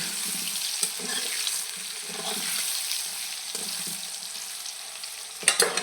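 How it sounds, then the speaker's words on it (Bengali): Steady hissing sizzle of potatoes frying in a pan with salt and turmeric, continuous and close, with occasional clinks of a utensil stirring and a louder clatter near the end. "আলুগুলোকে আমরা ভালো করে ভাজবো"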